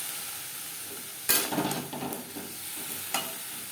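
Vegetable stalks fry with coconut in a pan, a quiet sizzle punctuated by a sharp clack and a few scraping stirs, close by with no one speaking.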